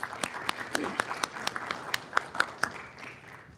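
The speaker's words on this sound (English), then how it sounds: "Let's give her a round of applause." A small group at a city council meeting applauds after the Pledge of Allegiance, sparse and distinct claps with a few sharp individual hand strikes standing out, fairly close and fading toward the end.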